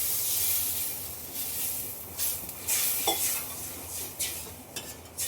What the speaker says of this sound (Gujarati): આપણે છાશનો વઘાર કરવાનો